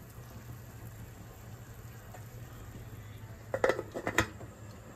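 A metal lid clanks onto a cooking pot of fish soup, a couple of close, sharp clattering hits after a quiet stretch over a low hum.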